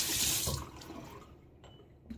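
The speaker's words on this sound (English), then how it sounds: "Let's add a little bit more water." Tap water runs briefly into a sink while shaving lather is prepared, a strong hissing splash for about half a second that then tapers into faint trickles and drips.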